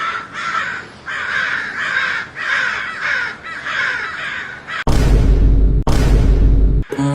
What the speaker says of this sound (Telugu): అమ్మో ఇన్ని కాకులు వచ్చినాయిందిరా.